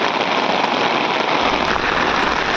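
Heavy monsoon downpour on the IIT Guwahati campus near the swimming pool area: a loud, dense, unbroken hiss of rain drumming on surfaces, close and constant throughout.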